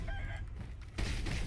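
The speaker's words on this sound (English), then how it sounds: "A fucking chicken." Chicken in the video game Sekiro: Shadows Die Twice, a short burst of clucking and squawking over game ambience, ending in a sudden louder flurry of noise.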